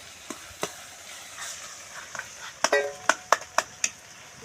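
Vegetables for a Gujarati olo sizzle and fry in a pan, with a soft steady hiss broken by sharp scraping and clinking from stirring that grows busier toward the end.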